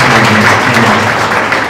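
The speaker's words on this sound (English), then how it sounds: "Let's give Craig a round of applause" Loud, dense applause from an audience for guest speaker Craig at a pitching evening, broad continuous clapping that fills the short clip with no talk.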